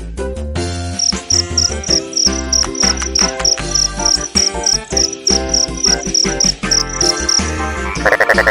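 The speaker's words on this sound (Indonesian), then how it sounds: "Suara jangkrik krik krik krik krik krik krik krik krik krik" Crickets chirp in a rapid, evenly spaced run of bright pulses over a bouncy children's song with backing music, prominent and close.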